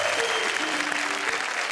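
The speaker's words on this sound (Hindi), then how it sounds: "ये सारी तालियां मुझे काका जी की वजह से मिल रही हैं" Dense, steady applause from an audience at a Hindi poetry show, continuous and fairly loud throughout.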